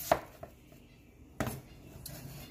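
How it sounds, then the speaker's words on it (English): A knife cuts peeled potatoes into big chunks on a board, giving a few sparse, quiet thunks and taps spaced well apart in a hushed kitchen. "I'm just gonna cut them in big chunks now, because I'm gonna boil them."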